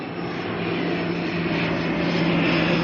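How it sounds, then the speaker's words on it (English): An ATR turboprop airliner arriving from Tauranga at Auckland airport at night produces a steady, continuous engine drone with a persistent low hum. It sounds moderately distant and builds slightly over the few seconds, with no voices. "It's an ATR coming in from Tauranga,"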